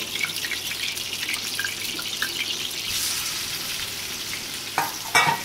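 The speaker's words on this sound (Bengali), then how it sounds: "এবার আমরা চিংড়ি মাছটা ভেজে নেব।" About 500 grams of medium bagda prawns fry in a pan of hot oil for potol chingri, giving a steady close sizzle and crackle, with a couple of sharper spatters near the end.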